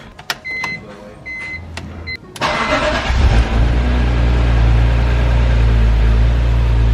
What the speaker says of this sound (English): We're gonna go ahead and start it and see how it sounds.